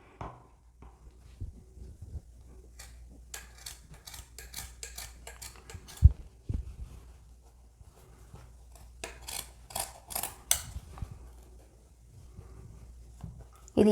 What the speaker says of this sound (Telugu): అంటే ఇక్కడ దాకా కట్ చేస్తున్నాను